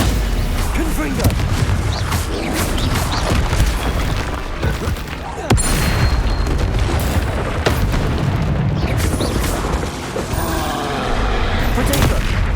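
Confringo and Stupefy spells hit in a Hogwarts Legacy battle, loud booming impacts and blasts in rapid succession over dense game music and effects, with someone shouting between the hits.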